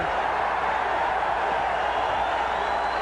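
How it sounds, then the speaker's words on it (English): A boxing arena crowd roars wildly in a dense, steady wash of cheering and shouting, loud and continuous from start to finish. "the crowd goes crazy"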